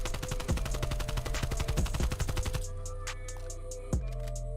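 An AK-47U fires in Black Ops Cold War: rapid, loud automatic bursts of closely spaced shots, followed by a softer stretch with a few more isolated reports.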